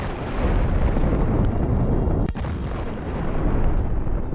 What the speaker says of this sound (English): The hit of the kamikaze drone caused an impressive explosion.